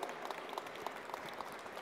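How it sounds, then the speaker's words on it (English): Applause for team members walking up to the stage at a student science presentation, steady clapping from a moderate crowd with brief louder claps standing out, fairly quiet and without talk over it. "Please give them a round of applause."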